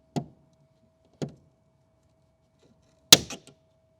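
A tool pries plastic trim clips off a metal ring, giving three sharp clicking snaps, the first two about a second apart and the last louder with a short rattle, close up in a quiet space.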